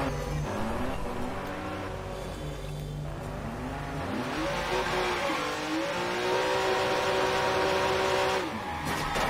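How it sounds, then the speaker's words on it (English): Fast car driven in Watch Dogs, engine droning and revving steadily with shifting pitch and occasional tire noise, loud and continuous throughout. "And I'm in quite a fast car."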